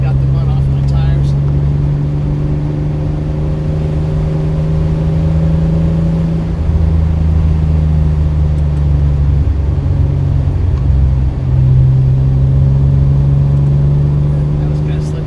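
A 1985 Pontiac Fiero GT cruising on Kentucky backroads along State Route 22, with a steady, loud engine drone whose pitch shifts gently as the car changes speed, running continuously throughout.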